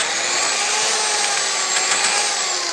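A steady, high-pitched whine of a corded electric hand drill with a 3/8-inch bit enlarging holes in a pedal plate held in a vise, constant and loud without pauses for the whole stretch.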